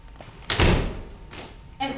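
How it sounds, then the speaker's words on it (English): An indoor door is pushed shut with one firm thunk in a stage scene, a short sharp knock following, with faint room sound around it. "Oh, close the door, Constantine."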